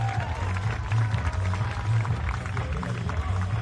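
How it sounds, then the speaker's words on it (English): An arena crowd at a polo cup in Bucharest gives polo teams a welcoming round of applause, a steady wash of clapping with an announcer's voice and low rumble underneath. "give them a big warm welcome and a round of applause"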